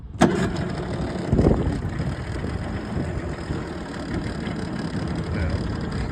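A Yamaha two-stroke engine, with oil leaking from the carburettor, idles steadily after a sharp start-up burst, giving a continuous buzzing putter at close range throughout.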